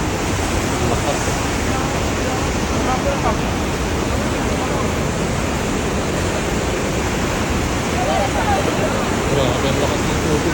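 Huka Falls thunders with a powerful, steady roar of rushing water, loud and unbroken throughout, like heavy surf close by.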